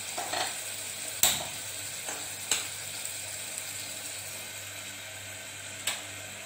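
Tomatoes sizzle and soften in a hot pan, a steady frying hiss broken by a few sharp clicks of a spoon scraping the metal.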